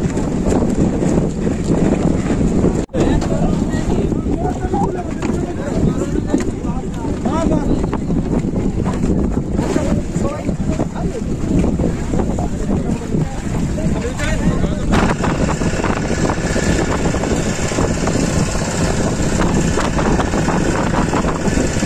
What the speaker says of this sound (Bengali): আর আমাদের বোট কিন্তু ছেড়ে দিল।